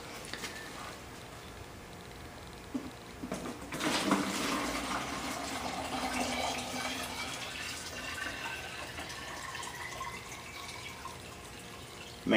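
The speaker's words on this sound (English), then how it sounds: "I'm going to refill my watering can from the 5-gallon bucket." Water is poured from a 5-gallon bucket into a watering can in an indoor grow room, a gurgling, splashing fill that starts abruptly after a few seconds of quiet and runs on steadily at close range.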